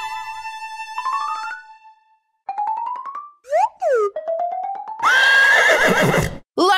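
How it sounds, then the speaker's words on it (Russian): A cartoonish horse neigh and whinny rises and falls in several bursts, mixed with bright musical tones and springy effects. "Лошадка!"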